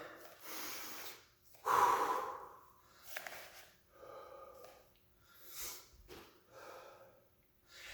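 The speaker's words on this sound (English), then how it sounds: "Deep breath. In through your nose. Out through the mouth." Slow, deep breaths drawn in through the nose and pushed out through the mouth during a workout cooldown, with one strong snorting inhale near the start followed by several softer breathing cycles, close and fairly quiet.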